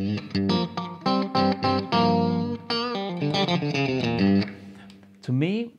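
A Stratocaster electric guitar played through an AMP1 amplifier with the boost switched off, a string of picked notes and short chords that sound clean and open, with a brief pitch slide near the end.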